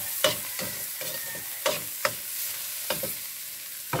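Onion and garlic being sautéed in a pan: a soft continuous sizzle broken by several sharp scraping stirs of a spatula at irregular intervals, close by and without any voice.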